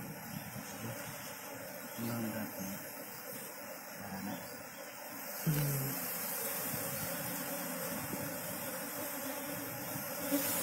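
Local cerana honey bees buzz in a continuous, faint drone, several insects humming at once close to the listener, with occasional low rustles and thumps beneath.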